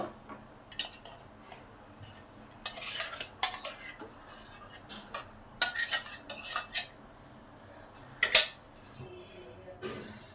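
Ground rice paste is transferred into a bowl in a home kitchen, with sporadic clinks and scrapes of a spoon against the metal vessel. The bursts are separated by quiet gaps, and the clearest knock comes near the end.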